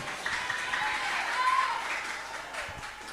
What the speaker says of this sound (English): give applause to Miss Kendal and Miss Jenny